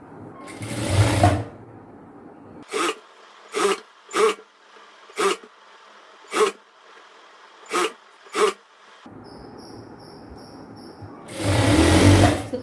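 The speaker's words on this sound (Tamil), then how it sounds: "ஒயிட் தெரியாத அளவு தையல் போடுறேன்" A sewing machine stitches a chudidhar umbrella top in a tailoring class, running in several short even bursts with pauses between, bracketed by longer louder runs at the start and end.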